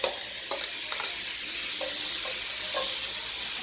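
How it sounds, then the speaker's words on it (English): Seasoned shrimp fry in olive oil in a skillet for street tacos: a constant bright sizzle runs throughout while a utensil stirs them in several short, distinct scrapes, no voices present. "Give those shrimp a good stir. Fry those babies up."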